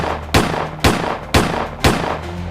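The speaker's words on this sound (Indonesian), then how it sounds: "muncul suara ledakan senjata." Four loud, evenly spaced gunshots ring out in quick succession, each a sharp bang with a short echoing tail.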